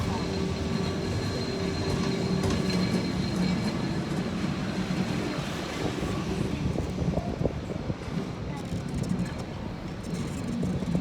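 Steady rumble and rattle of a yellow tram rolling through a street in Portugal, heard from on board, with continuous clatter throughout and some faint voices mixed in.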